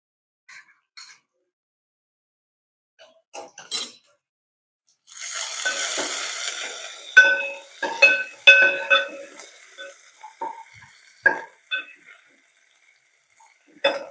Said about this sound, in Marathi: आता हे आपण परतून घेऊया ठेचा जरा.